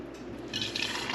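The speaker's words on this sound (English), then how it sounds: "container with the tea and pour it in here through the sieve" Brewed chai tea is poured from a container through a sieve, a short soft splash and trickle of liquid heard close up with no talk.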